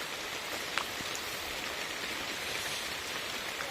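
Steady rain falls in a dense, even hiss, with occasional sharper drops tapping nearby; no voices.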